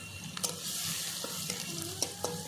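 Chopped garlic frying in a pan makes a quiet, even sizzle, with occasional light stirring taps and clinks over it.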